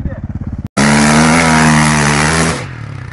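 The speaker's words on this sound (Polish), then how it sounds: "Motor!" An enduro cross motorcycle roars close by at a Krzeszowice riding event, a sputtering idle suddenly jumping into a loud sustained rev that holds for about two seconds before dropping away.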